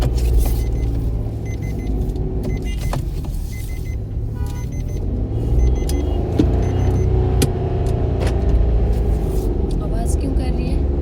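A car engine hums and strains at low speed during a driving lesson, a close, steady rumble with slight revving, while people talk inside the cabin over it.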